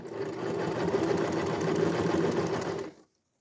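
A sewing machine runs steadily for about three seconds, a fast even whirring hum that stops abruptly, as it stitches a 3D puff embroidery design onto a shirt; it is close and alone, with no talking.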